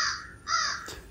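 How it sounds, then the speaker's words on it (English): Several agitated crows cawing in excited, overlapping calls, played back from a recording; harsh caws come in two or three close bursts with a short sharp sound at the end. "I pulled up another video where the crows are calling in kind of a more agitated, excited tone,"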